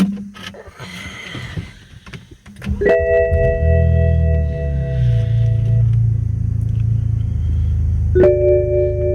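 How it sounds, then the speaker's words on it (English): A BMW 325i E90 engine cranks and catches after a fuel pump replacement, then settles into a steady low idle rumble. Chimes and tones from the car sound over the engine, and short clicks come before it starts. "All right, car started and it's staying on"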